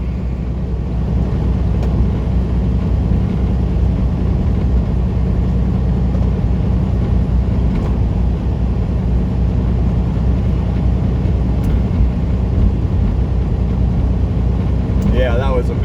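Semi truck engine pulling hard while accelerating westbound on I-80, a loud, steady low drone of engine and road noise that runs throughout, with a brief high squeak near the end.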